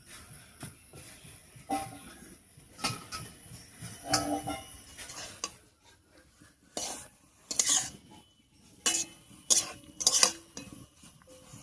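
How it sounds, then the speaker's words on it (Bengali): A utensil stirs pumpkin greens in a pot over a clay stove, with intermittent scraping and clinking against the metal, sparse and close, with quiet gaps between strokes. "শাকটা দিয়ে সবকিছুর সঙ্গে খুব ভালো করে মিশিয়ে নিলাম"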